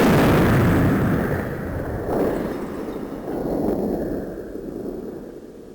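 A bomb goes off in the Sega CD game Snatcher, a loud, rumbling explosion that hits at once and rolls on in a long, noisy, slowly fading roar with a second swell midway.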